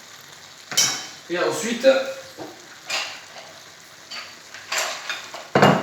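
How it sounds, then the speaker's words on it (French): Paella rice with prawns being stirred in a hot pan, a soft sizzle under scraping and occasional clinks of the utensil against the pan, with someone speaking French over it. "Veillez à bien mélanger pour pas que le riz accroche au fond."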